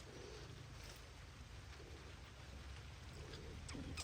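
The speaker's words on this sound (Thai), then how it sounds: "มืดคึ้มเลยเห็นปะฝนมาแล้วด้วย" Rain sets in under a dark, heavily overcast sky, a soft and continuous hiss of falling drops that stays faint and even throughout, with no voices.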